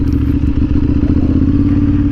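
Motorcycle engine running with its exhaust baffles removed, giving a loud, steady, deep rumble with harmonic drone throughout and no talk.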